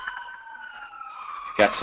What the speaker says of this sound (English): ambulance going down the street here